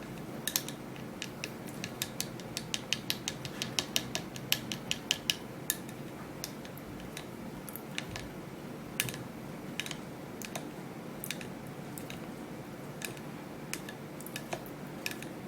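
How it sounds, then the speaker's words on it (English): A papaya and egg mixture stirred and turned in a bowl, with sharp rapid clicks and taps from the utensil against the container, densest early then spacing out, close and fairly quiet with no voices. "so we're gonna stir and turn this mix."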